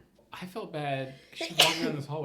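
A person sneezes once, a short sharp burst in the middle of ongoing conversation, with voices talking before and after it.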